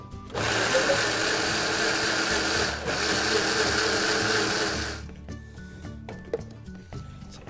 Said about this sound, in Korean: 이 줄기 부분을 조금 제거를 한 상태에서 물을 넣고 블렌더에 한번 갈아 보겠습니다